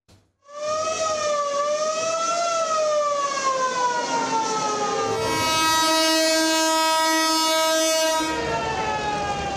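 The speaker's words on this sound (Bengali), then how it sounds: "যাত্রীতে ঠাসা বগি আর ডেক ভর্তি মানুষ নিয়ে বাড়ির পানে ছুটছে ট্রেন ও লঞ্চ" A crowded passenger train carrying Eid holiday travellers home in Bangladesh sounds a loud, sustained horn that wavers in pitch and shifts tone midway, with rail rumble beneath.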